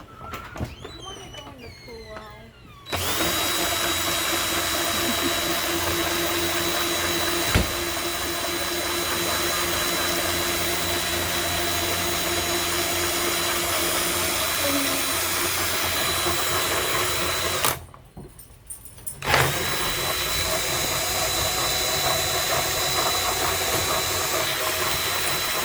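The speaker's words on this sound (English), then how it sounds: "we got power tools now, it's going to get loud" A power tool running loudly and continuously near a washing task with yarn, a dense whirring roar that stops briefly partway through and then resumes, with a voice heard before it starts.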